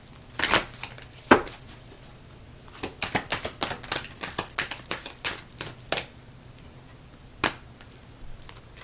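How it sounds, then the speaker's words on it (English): Tarot cards being shuffled during a reading, a run of quick papery riffles and slaps at close range, irregular bursts over several seconds with no talk. "One more shuffle."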